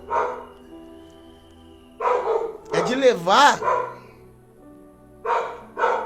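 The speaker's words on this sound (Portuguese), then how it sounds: "Aqui tem cachorro latindo." A dog barks in short bursts, a few yelps near the start, a louder run of barks in the middle and two more at the end, alongside a man preaching in Portuguese.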